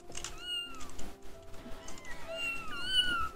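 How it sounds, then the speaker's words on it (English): Several video game cat meows, high and drawn-out, rise and fall in quick succession over a faint background hum, fairly close. "There's a cat in there."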